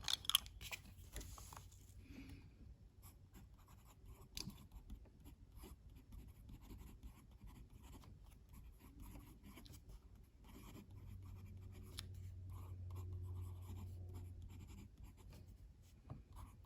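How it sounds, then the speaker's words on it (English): A TWSBI fountain pen writing wet with Lamy black ink on paper, faint close scratching and gliding strokes in short bursts with brief pauses, over a low quiet room hum and without talking. "Now you can see just how wet this pen is writing."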